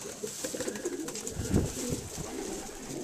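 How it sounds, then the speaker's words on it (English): Young racing pigeons coo softly in a loft, with low murmuring calls over a busy background of rustling and bird noise. "Beautiful pigeon."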